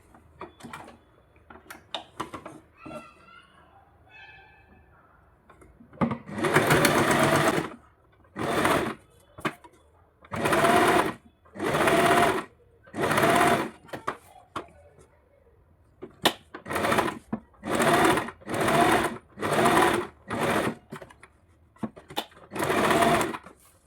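A sewing machine stitches a seam along blouse cloth in about a dozen loud, close bursts of rapid whirring, separated by brief pauses, after a few seconds of quiet handling of the fabric.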